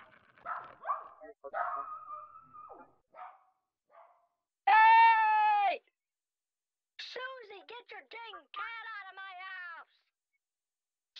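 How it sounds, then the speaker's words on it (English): A dog and a cat scuffle indoors over a treat: short barks and whimpering yips come in bursts, with a sustained loud whine or yowl in the middle and gaps of silence between. "My neighbor Susie's got her cat in my house fighting my dog over a treat"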